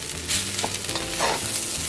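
Fried rice stirred in a pan of hot oil, a utensil scraping and tossing the grains in a few quick strokes over a steady close sizzle, with no voices.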